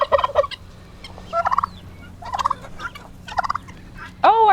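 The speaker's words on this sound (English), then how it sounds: "we have one lonely turkey" A lone turkey gobbling in a chicken yard, five rapid rattling gobble bursts spaced about a second apart, fairly close and clear over faint background noise.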